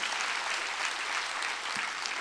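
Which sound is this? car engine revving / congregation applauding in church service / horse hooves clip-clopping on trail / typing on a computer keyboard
congregation applauding in church service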